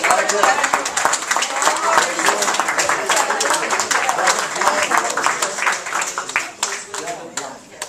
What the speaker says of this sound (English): A big round of applause for the Book Publicist of the Year, Devin Blaine.